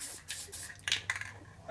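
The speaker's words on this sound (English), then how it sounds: "You're just spraying down the groove that you can't see." Spray can of engine paint hissing in short bursts as the groove of a 1965 Harley-Davidson Panhead 74ci FLH motor is coated, faint and close.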